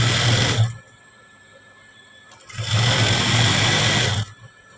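A sewing machine stitches the edge of a blouse in two loud, steady whirring runs with a pause between them, close and heard alone.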